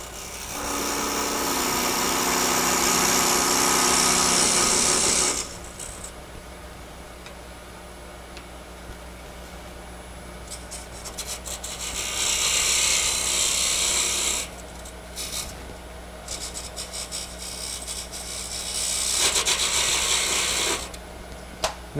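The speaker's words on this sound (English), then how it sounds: "you're going to turn the lathe on" A wood lathe turns a box while a mini scraper cuts a recess in its bottom, giving rough, raspy scraping in three long bursts over a steady low motor hum, with clicks and quieter spinning in between.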